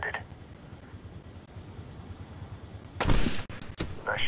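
A sniper rifle shot in Medal of Honor's mountain war campaign: a sharp, loud report near the end after quiet ambient stretches, followed by a second crack moments later.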